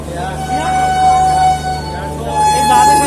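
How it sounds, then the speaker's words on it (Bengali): Train horn at a station on the Kolkata to Puri Jagannath Express route, a steady sustained tonal blast running through the whole moment over background crowd noise and a low hum. "ট্রেনের হর্ন দিয়ে দিয়েছে"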